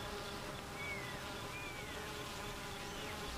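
Honey bees hum steadily around their hive, with individual bees droning close by as they pass. The buzzing is faint and continuous, and no one talks.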